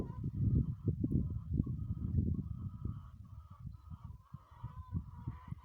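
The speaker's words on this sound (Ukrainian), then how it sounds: "Отут у мене в садку ходять кури" Chickens roaming a fruit orchard cluck and murmur close by in a steady, low, throaty chatter, with a few higher calls mixed in.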